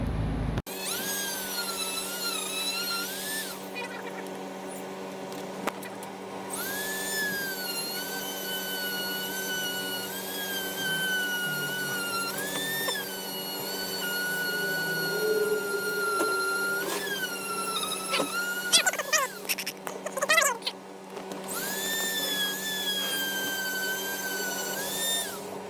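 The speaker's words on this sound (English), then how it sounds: "we're gonna Dremel it, and then it's gonna be smooth" A Dremel rotary tool smooths the cut edge of a MK4 Supra bumper lip being fitted to a MK3, a continuous high whine whose pitch rises and falls as the load changes, with a few brief drops in speed.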